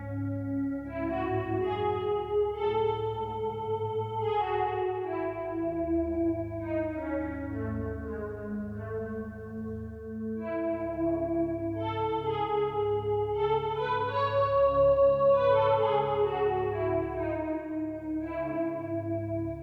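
An Arturia DX7 synthesizer plays a classic chorus pad with the mod wheel down, a lush, shimmering sustained chord progression with smooth, wavering chorus movement, played alone with no talking.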